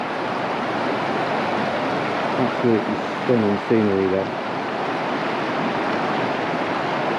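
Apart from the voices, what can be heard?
brook in full flow after heavy rain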